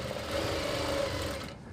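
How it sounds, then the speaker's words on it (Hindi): A sewing machine stitching a kurti collar, a brief close run of rapid, even mechanical stitching that stops abruptly at the end. "तो ये देखिए इसको ऐसे करके ये सिलाई लगाएंगे"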